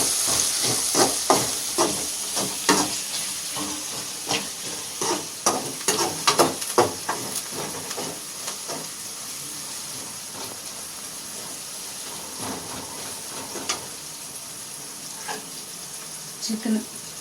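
Chicken frying in oil with raw mango pieces, heard as a close sizzle and hiss broken by clustered scraping and clinking stirs in the first half before settling to a steadier bubbling fry; a voice briefly talks underneath.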